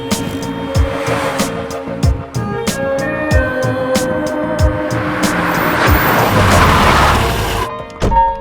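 A broken-down car leaking coolant oil, heard as a loud, continuous engine and road rumble with several heavy thumps and rising mechanical noise throughout.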